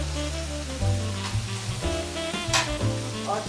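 Chopped tomatoes tipped into a hot pan for palak paneer give a continuous hissing sizzle, partly masked by loud tonal background music.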